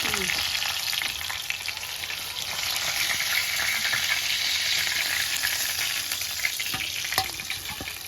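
Fish for meen varuval deep fries in hot oil, giving a dense, steady crackling sizzle that carries on close-up throughout, with no talking.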